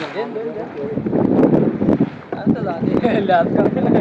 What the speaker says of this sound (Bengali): অনেক ঢেউ